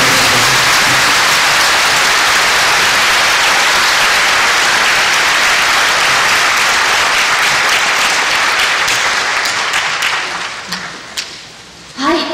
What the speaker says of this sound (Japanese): 盛大な拍手で幕を閉じたいと思います